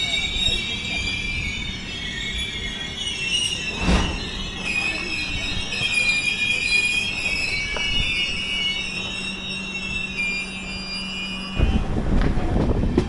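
Udyan Express passenger train pulling out of Cantonment station, with steady rolling rail noise and high, sustained wheel squeal throughout, a louder surge near the end.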